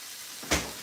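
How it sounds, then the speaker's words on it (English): Cabbage sizzles in a pan on very high heat, a steady close hiss with one brief louder burst partway through. "our cabbage, you can hear that, you can feel that sizzling"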